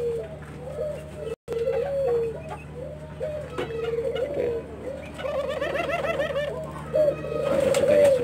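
Turtle doves (burung puter) cooing at a breeding setup while a bird broods, repeated low rhythmic coos close by over a steady background hum, with brief higher chirps joining near the end.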